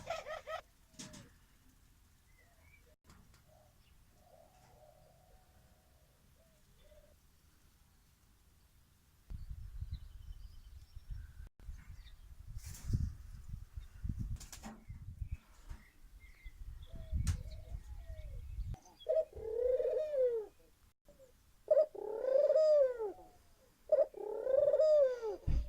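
Turtle doves coo in a garden shed, soft repeated rising-and-falling calls arriving in a slow rhythm near the end, close and clear after a stretch of quiet shuffling and handling noises.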